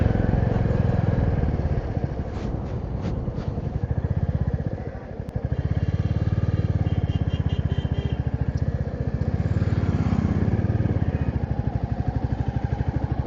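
A motorcycle on a solo long-distance ride from Jharkhand toward Varanasi, its engine droning steadily and loud throughout, with a brief dip in the middle and wind buffeting the microphone.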